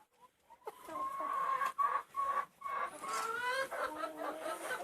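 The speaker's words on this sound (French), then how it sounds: "les poules attendent leur place pour pondre" Several laying hens waiting to lay cluck and squawk close by, overlapping in a busy, continuous chorus with occasional higher-pitched calls.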